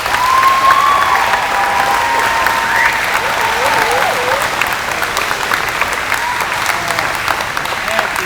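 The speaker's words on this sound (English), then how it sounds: "So I'd like you guys to give a big round of applause" Sustained, loud applause from an audience welcoming a World War II veteran at a school presentation, a steady wash of many hands clapping with some whoops and crowd voices mixed in.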